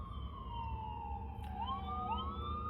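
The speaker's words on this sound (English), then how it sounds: "You hear that ambulance, guys?" An ambulance siren wails and sweeps in pitch as it passes over a low traffic rumble, moderately distant and steady.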